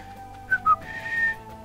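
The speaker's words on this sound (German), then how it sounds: "Ich darf nicht pfeifen, sorry." A person whistles alone nearby: two short clear chirping notes followed by a longer sustained tone, over a quiet game music background.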